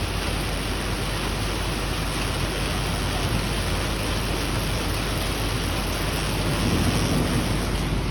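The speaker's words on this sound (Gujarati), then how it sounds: "અમે હવે તો નવરા વરસાદને જોઈ છે." Heavy rain pours down over Surat city in an unseasonal summer downpour, a dense, unbroken hiss that stays loud and even throughout with no distinct thunder.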